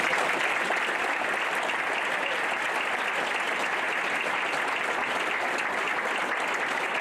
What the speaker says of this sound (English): another round of applause for these extraordinary